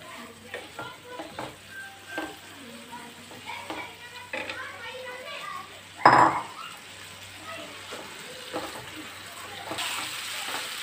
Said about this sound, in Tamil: இப்போ மட்டன் நல்லா ஃப்ரை ஆகி வருது